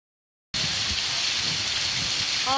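Heavy rain pours down steadily on a market street, a dense, loud, unbroken roar of drops hitting surfaces that starts abruptly after a moment of silence.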